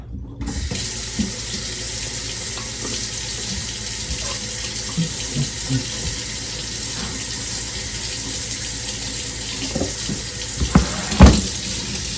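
Tap water gushing from a faucet into a jar for salt brine in a kitchen, a steady close rushing flow that runs throughout, with a few clinks and knocks near the end.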